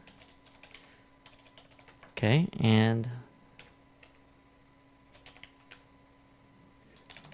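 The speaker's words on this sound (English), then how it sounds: "we got to go in here and type in our password and username we chose" Fingers tap out a password on a computer keyboard in light, scattered clicks, faint and close, with a brief spoken phrase interrupting near the start.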